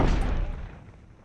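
Da Vinci's tank in the Lionheart video game fires a single booming shot, loud at first and then fading over about a second, with no talking.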